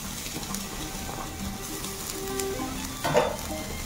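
Golden onions with ginger-garlic paste fry in a pan, a steady close sizzle with light stirring scrapes and a brief louder clatter near the end.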